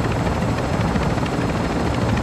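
Heavy chopper helicopter in the Call of Duty DMZ video game, a steady loud rotor and engine drone filling the whole moment without a break, with no talk over it.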